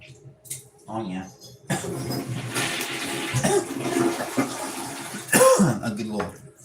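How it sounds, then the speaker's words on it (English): A toilet flushes up close, a loud rushing swirl of water lasting several seconds before it gurgles down, with a voice and a cough heard briefly around it. "A good little flush sound to let her down."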